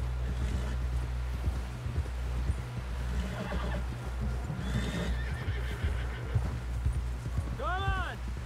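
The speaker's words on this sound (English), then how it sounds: "Someone help John down off this horse." A horse in Red Dead Redemption 2 whinnies loudly near the end over steady hoofbeats at a run, with a low rumble and voices talking underneath.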